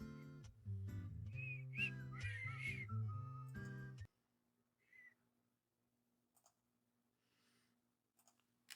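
A person whistles a short, wavering tune for about four seconds, then stops, leaving near silence with a single faint whistled note and a few scattered clicks.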